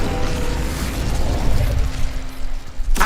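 An Incendio fire spell bursts in Hogwarts Legacy with a loud, rumbling whoosh of flame and mechanical crackle that holds steady, then ends in a sharp burst at the close.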